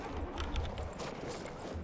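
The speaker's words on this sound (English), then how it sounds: "Horse coming, horse coming." A horse gallops in the World War I shooter game Battlefield 1 with rapid, rhythmic low hoofbeats amid busy battle noise, and a voice is faintly audible.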